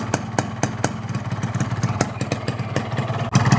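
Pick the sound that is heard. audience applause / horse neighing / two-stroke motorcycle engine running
two-stroke motorcycle engine running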